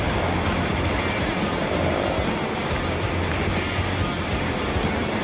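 A Yamaha Sniper 150 motorcycle cruising in 4th gear at speed on a busy, slightly wet road, with a loud, continuous engine drone and rushing wind noise throughout, no talk.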